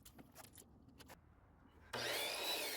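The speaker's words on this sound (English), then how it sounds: "Measure and cut it out." Power saw cutting PVC column trim, a sudden loud bright whine that starts after a quiet stretch of faint shuffling and handling noises.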